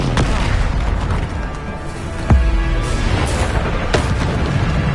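Bombarda blasting spell in Hogwarts Legacy, loud booming bursts amid constant combat noise, with a sharp heavy impact in the middle and further hits around it.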